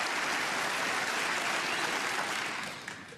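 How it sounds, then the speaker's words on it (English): Snooker supporters cheering and applauding Judd Trump inside the Tempodrome arena during a German Masters semi-final, a continuous broad crowd roar that holds steady and then fades slightly toward the end. "you can just hear the Judd Trump supporters in the Tempodrome cheering their man on"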